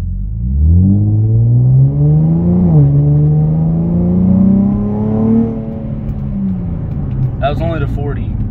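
An Infiniti G35 with an aftermarket exhaust, heard from inside the car, revs up in a rising engine drone, shifts once, climbs again and then eases off; a voice speaks near the end.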